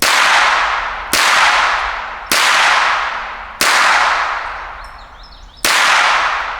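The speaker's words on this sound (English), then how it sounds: "I'm going to shoot my 5 rounds" Five pistol shots from a Girsan Hi-Power firing Winchester White Box ammunition at an outdoor range, each a sharp loud crack with a ringing decay, spaced about a second apart.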